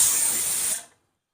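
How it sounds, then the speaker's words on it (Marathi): Steam hisses strongly from a pressure cooker whistle, cooking carrots on a low gas flame, a steady loud spray of steam that cuts off and fades to silence after under a second. "मंद गॅसवर कुकरची 1 शिटी करून घ्यायची."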